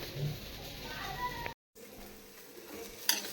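Onions sizzle and are stirred in a pan for a Konkan-style village chicken tempering, a steady hiss with scraping, broken by a brief gap and a sharp clink near the end.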